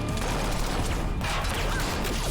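Dense, continuous gunfire from a scene in The Walking Dead season 3 episode 'Welcome to the Tombs': a steady, loud fusillade of overlapping shots with no clear gaps.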